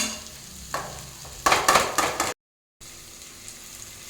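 Ridge gourd frying in a pan, with a short burst of stirring and sizzling that rises then cuts out, followed by a quiet, low hiss of the pan.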